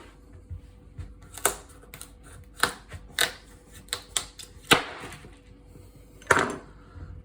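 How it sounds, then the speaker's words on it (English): A knife chops through the hard stalk end of a pumpkin, giving a series of sharp, irregular cracks and knocks against a cutting board, fairly close and spaced unevenly over several seconds. "So all I want to do is cut the end off it."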